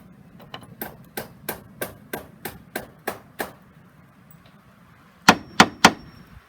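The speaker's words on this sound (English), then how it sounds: "And then hammer that in to cover the hole." A wooden plug is hammered into a dock board to cover a screw hole, about ten evenly spaced sharp knocks, then a pause and three louder, harder blows close by.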